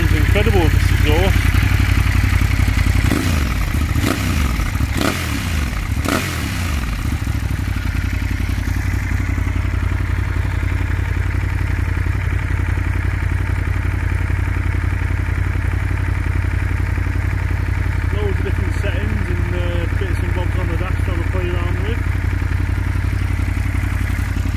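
A Ducati Monster 1200 S motorcycle idles loudly through its aftermarket exhaust nearby, steady throughout, with a few sharp clattering knocks early on and a brief voice partway through.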